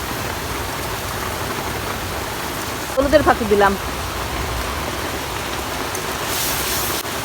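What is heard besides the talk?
rain during a storm in a village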